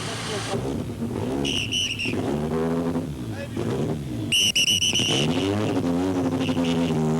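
Renault 5 Maxi Turbo rally car at a 1985 rally, its engine revving up and down in loud rising and falling sweeps beneath continuous talk.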